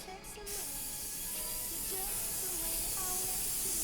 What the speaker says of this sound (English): now I'm about to spray the outside